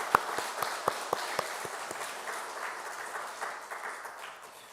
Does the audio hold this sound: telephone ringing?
no